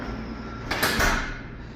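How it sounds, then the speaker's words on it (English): An emergency door on a mobile dry room swings open, a single loud broadband whoosh and clatter around the middle, then fading into steady room hum. "we are going inside the room from the emergency door right here"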